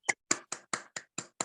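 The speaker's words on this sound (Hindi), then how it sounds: "जोरदार तालियां होनी चाहिए एक बार दीपक जी के लिए।" Applause for Deepak ji: seven sharp, evenly spaced claps from a single pair of hands, close and crisp against silence.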